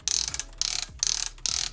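Ratchet joints clicking on the arms of a Newage Omega Supreme third-party Transformers toy, four quick bursts of close, crisp rapid clicks with short gaps between them.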